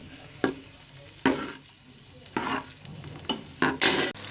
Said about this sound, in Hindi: इसको सोते करना है, थोड़ा सा सोते होता है